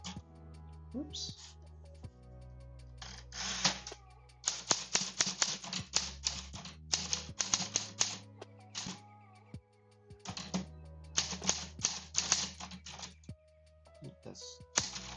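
Close, crisp clacking on a manual typewriter comes in uneven bursts with brief gaps over a steady low hum, and someone talks intermittently.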